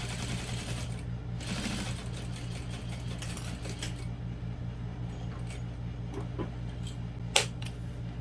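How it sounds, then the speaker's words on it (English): Home sewing machine backstitching through thick fabric while making a barrel bag, a steady mechanical whir with fast stitching clatter and hum throughout, close by, with a few sharp clicks near the end. "I'm backstitching through thick fabrics, knowing that my machine doesn't do well with that"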